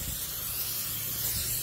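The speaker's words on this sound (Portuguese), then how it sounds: "Isso aqui é óleo, tá, gente? É óleo normal, só que ele vem dentro desse spray aqui." Vegetable oil from an aerosol spray can hisses out in one continuous, steady close-up burst with no talking.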